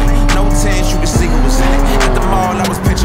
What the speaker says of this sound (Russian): И звук, вот это сопровождение выхлопа